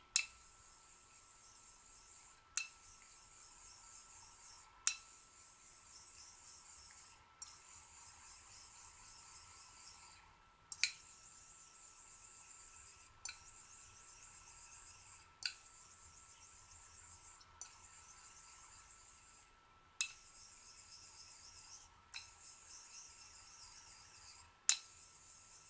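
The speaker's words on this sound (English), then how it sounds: "with your razor, I'm going to use circular strokes, which are a very efficient metal removing stroke." Circular strokes grind metal on a worn Parker razor. A faint, hissing scrape repeats roughly every two to three seconds, each stroke starting with a sharp tick and fading, with near-silence between.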